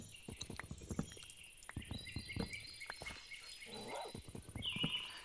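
Minecraft wolf growling and yapping like a small angry dog, a run of short sharp barks and snarls with some higher chirping sounds close by; no talk.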